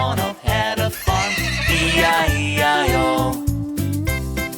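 A horse whinny rings out over a bouncy children's farm-song backing with steady drums and bass, loud and close throughout the short stretch.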